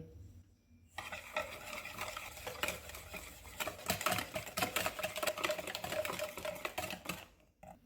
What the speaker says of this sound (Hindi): एक बाउल में अंडे डालेंगे, चीनी डालेंगे, इनको अच्छी तरह मिक्स करेंगे।